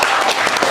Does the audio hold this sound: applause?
yes